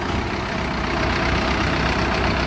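A Solis Yanmar 5724 tractor's diesel engine runs steadily, a close, loud, continuous low rumble with no pauses or voices.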